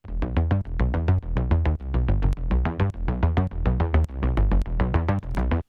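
Layered synth bass plucks in an electronic music track, punchy repeated notes in a steady rhythmic pattern with short gaps, loud and close with no talking.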